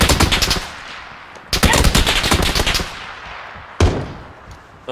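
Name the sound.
gunfire hitting the player in PUBG video game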